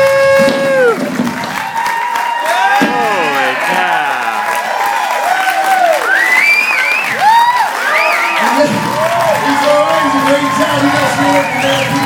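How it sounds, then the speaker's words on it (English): A crowd applauds and cheers for a mayor after a bed-of-nails stunt with a sledgehammer. Loud, steady clapping runs throughout, while whoops and shouting voices rise over it. "Give him a round of applause for that."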